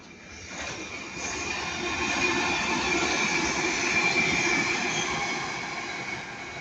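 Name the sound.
Class 331 electric train passing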